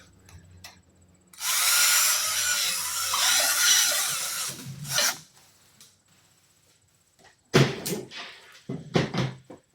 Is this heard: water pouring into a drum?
no